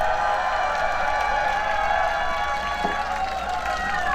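Crowd at an outdoor presidential campaign rally near Bongeunsa Station in Gangnam, cheering and clapping in a steady roar mixed with amplified music and echoing noise, continuous and loud.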